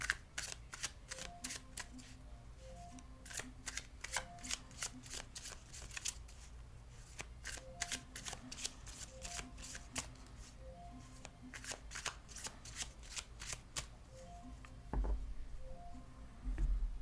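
Tarot and oracle cards, including a tiny tarot deck, are riffled and shuffled by hand in repeated quick bursts of crisp flicking and patter. The sound is close and quiet, with short pauses between the rounds.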